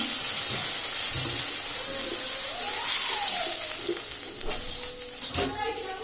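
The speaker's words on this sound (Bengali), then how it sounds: "পানি দিয়ে দিলাম।" Meat sizzling in a pan as water is poured in, a steady loud hiss and bubbling with a faint rising tone and a few clinks near the end.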